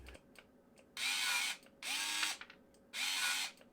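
Parkside 4V cordless electric pruning shears whir through thin green apple branches in three separate bursts of motor buzz, each about half a second long, close and clear with quiet pauses and small mechanical clicks between cuts.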